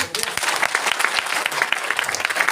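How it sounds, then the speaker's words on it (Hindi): Audience at a Republic Day event giving a sustained round of dense, loud clapping, continuous throughout with a few voices mixed in. "वो ताली हो जाए"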